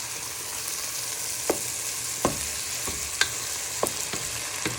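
Chicken and mushroom stew with flour, salt and pepper stirred in a simmering pan: a steady sizzle with a few distinct scrapes of the spoon against the pan at intervals, close up and without talk.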